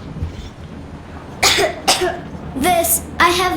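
A child character coughs in the video game Metro Exodus, several short raspy coughs in a quick irregular series mixed with strained voiced breaths, close and fairly loud over a quiet background.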